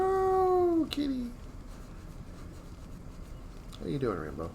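A cat meows twice, a long drawn-out meow at the start and a shorter one near the end, separated by a quiet stretch.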